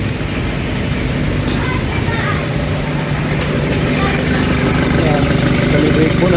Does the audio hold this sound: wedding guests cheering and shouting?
no